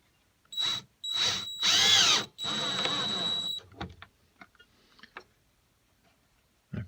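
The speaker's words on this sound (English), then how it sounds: "we're going to attach this stop with a screw once we find center right there on that cut line" Power drill driving a screw to fix a wooden stop on a rustic wood Christmas star decoration, four close bursts of whirring with short pauses between, then a few faint clicks and handling sounds.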